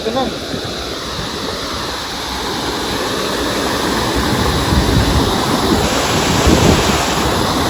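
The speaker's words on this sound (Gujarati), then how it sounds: "હા બોર ચાલુ ઉછળ તો હે ના હોય આ બોર પાણી" Water gushing hard from a borewell at Uparkot Fort, Junagadh, a loud continuous roaring rush that swells slightly, close by with wind buffeting, and a voice speaks over it.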